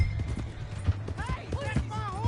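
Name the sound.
horse hooves galloping in Red Dead Redemption II video game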